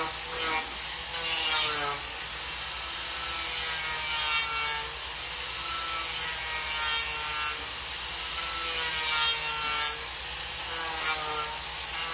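Continuous rough grinding and rasping of a turbo plane power carving tool biting into wood, steady and fairly loud with a whirring edge throughout.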